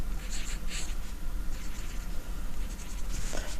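A pen scratches out a Lewis dot diagram for magnesium and oxygen on paper, a run of close, soft, scratchy strokes and quick dotting taps in short bursts over a low background hum, with no one speaking.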